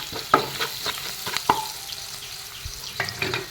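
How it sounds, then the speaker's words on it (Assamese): Spices (turmeric, cumin powder and coriander powder) stirred as they fry in a pan for egg curry, with a spoon scraping and clinking at irregular intervals over a steady low sizzle, close up and with no talking. "সেইখিনিও এনেদৰে লৰাই দিম।"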